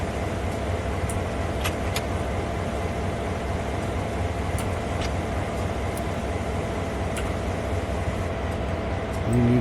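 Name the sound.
train braking and backing up in Train Sim World 5 video game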